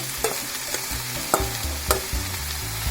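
Chopped tomato and onion sizzle in a pan as a spoon stirs, giving a continuous close hiss punctuated by several sharp utensil knocks against the pan, with a low hum underneath and no talking.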